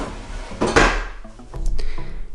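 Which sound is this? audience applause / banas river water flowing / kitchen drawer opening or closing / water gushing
kitchen drawer opening or closing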